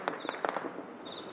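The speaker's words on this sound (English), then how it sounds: "You can hear the gunfire. This is all ground fire." A quick cluster of sharp cracks from ground gunfire at night in Srinagar, muffled by distance and followed by a faint whistling tone.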